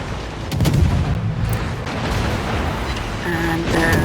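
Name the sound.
warship secondary guns firing in World of Warships video game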